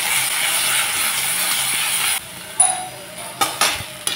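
Mustard and fenugreek seeds with two bay leaves dropped into hot oil for tempering give a steady, bright hiss for about two seconds that then drops away, leaving a few sharp pops and crackles.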